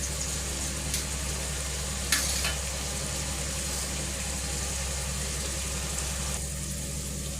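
Chopped onion, tomato, green chilli and curry leaves sauté with mustard seeds in a hot pan, giving a steady, even sizzle with a couple of brief utensil knocks. No voices are heard.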